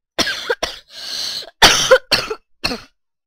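A fit of close, harsh coughing, several bursts in quick succession with a throat-clearing rasp between them.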